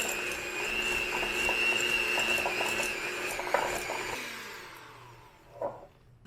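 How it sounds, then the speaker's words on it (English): An electric hand mixer works through a sticky dough, a steady whining motor hum with slight rattling that winds down and stops, followed by a soft clunk as it is set aside; no talking. "so I'm just going to use my hand mixer for this"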